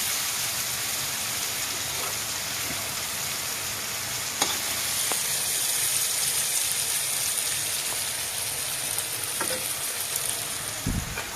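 Long beans (lobia) crackle and sizzle in hot oil in a pan, a steady close frying hiss with occasional sharp pops and a stir or scrape near the end.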